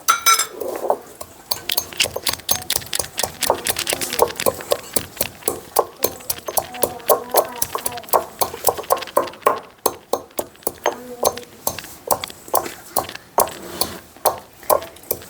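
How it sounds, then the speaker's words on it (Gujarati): Garlic being crushed for rasiya muthiya, heard as a steady run of close, sharp knocks and clinks with a loose pounding rhythm that continues throughout. "લસણ વાટી નાખું, લ્યો લસણ વાટી દો"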